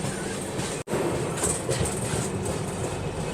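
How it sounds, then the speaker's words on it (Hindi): A passenger train rolls along the rails, with a continuous rumble and rhythmic wheel clatter heard from inside, steady and moderately loud with no talk. "अभी हम लोग की ट्रेन बस आगरा एंटर होने वाली है।"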